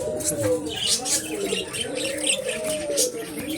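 Pigeons coo repeatedly in soft, rolling phrases with scattered chirps at a bird house in Nagarkanda, a close, continuous chorus.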